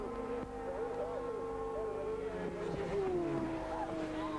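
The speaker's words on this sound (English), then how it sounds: "That's them through Charlie Corner ahead of Brian Reid, Johnny Ray, and Mark Farmer" Racing motorcycles scream past at the 1990 Ulster Grand Prix, their engine whine sweeping and dropping in pitch as they go by, loud and continuous throughout.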